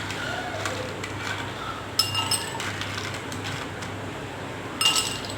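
Glass clinks twice while a blue lagoon mocktail is prepared, each a short bright chime over low background hum with brief rustles between.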